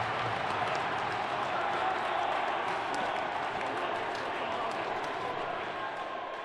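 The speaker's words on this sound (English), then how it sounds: "You can hear the crowd here going nuts" Spectators at a high school hockey cup final keep up a loud, continuous roar after a goal, with scattered shouts and claps poking through the dense crowd noise from start to finish.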